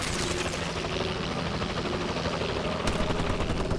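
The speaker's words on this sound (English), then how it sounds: "Ah, gotta love the assault drone." An assault drone flies in the shooter game Call of Duty: Advanced Warfare, a loud and continuous rotor-like whir with faint gunfire mixed in, and nobody speaks.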